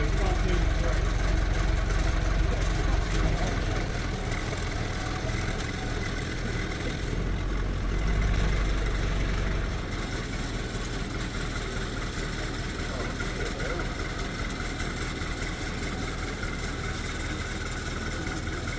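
A forklift engine runs steadily at low revs as the vehicle creeps slowly forward, taking up tension on a strop while moving a railway truck during steam train restoration work; a continuous idling drone fills the whole stretch, with slight shifts in tone.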